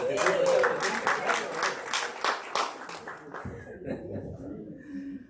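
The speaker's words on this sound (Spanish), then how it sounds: "Le damos un aplauso de" A church congregation breaks into applause mixed with chuckles and laughter, the clapping dense at first then fading out after a few seconds into quieter murmuring.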